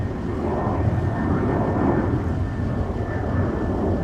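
A fixed-wing airplane arriving or departing on the parallel runways at MSP airport on a winter day gives off a steady, loud, heavy rumble that holds for the whole stretch, with no voices.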